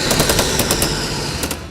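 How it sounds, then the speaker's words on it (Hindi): Indian army artillery guns fire near the Line of Control, a rapid run of loud, sharp blasts in close succession over a continuous rumbling roar, with no voices. "लाइन ऑफ कंट्रोल के कुछ ही दूरी पर भारतीय तोप गरज रही।"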